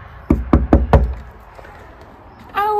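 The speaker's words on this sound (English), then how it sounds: "Yeah, give it a knock." Four firm knocks on a cabin door at a cabin retreat resort in Utah, evenly spaced and loud and close, then a brief silence before a voice starts speaking.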